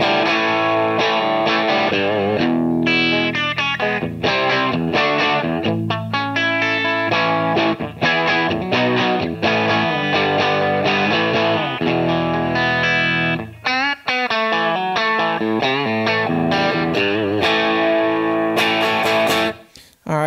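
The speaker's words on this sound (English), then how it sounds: "Now as I go higher up, obviously we're going to get more phase inverter distortion" Overdriven guitar tone from a tube power amp pushed until the phase inverter breaks up, giving a continuous gritty, slightly compressed distortion. Chords and single notes ring loud and sustained throughout, with no talking over them.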